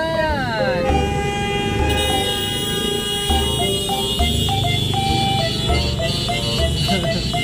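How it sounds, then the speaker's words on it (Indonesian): Loud, persistent vehicle horns honking over each other in a dense traffic jam, with repeated blasts over steady engine noise. "Lu dengerin dah tuh, klakson juga"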